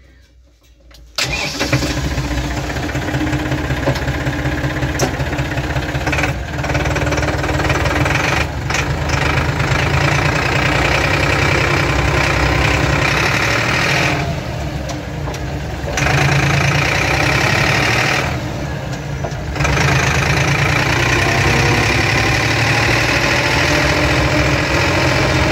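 A Tafe tractor engine starts after a brief hush and settles into a loud, steady, close idle with a rough, knocking rumble that continues throughout, with no talking.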